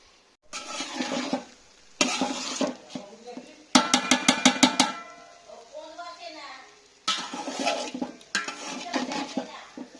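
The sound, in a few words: rice being fried in a pan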